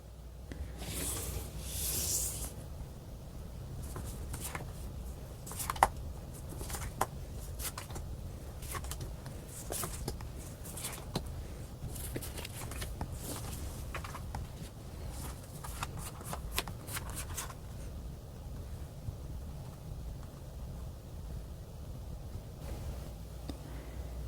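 Tarot cards are shuffled close up in a quiet room, giving a quick burst of riffling and then a long run of soft, rapid slaps and flicks that stop near the end.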